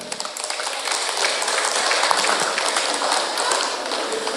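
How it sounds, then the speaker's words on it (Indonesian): Worshippers at an Isra' Mi'raj evening religious gathering in a mosque in Bangkalan, Madura, applaud together, a bright, even, sustained clatter of many hands at moderate distance, without talk. "Tepuk tangan"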